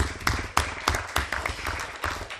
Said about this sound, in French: Je propose d'applaudir aussi donc, Dominique Potier qui nous a accueillis.